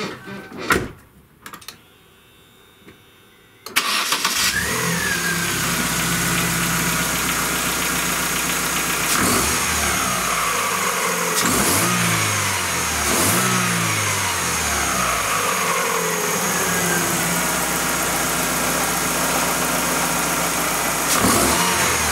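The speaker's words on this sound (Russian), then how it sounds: "Звук без катализатора" Chevrolet Aveo engine runs with the catalytic converter removed, recorded near the hood. After a few seconds of faint handling noise, a loud steady idle takes over with rough, raspy exhaust and occasional revs.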